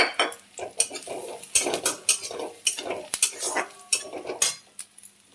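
Onion frying with ginger and garlic in a pan, a spoon repeatedly scraping and clinking against the metal in an uneven rhythm over a soft sizzle, close and clear with no talk.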